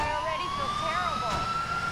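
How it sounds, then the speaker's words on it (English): A fire truck siren from Grand Theft Auto IV wails steadily with a rising tone over constant engine rumble, loud and close, while someone talks over it. "You don't like my fire truck with the sirens and the awesome horn and the water gun."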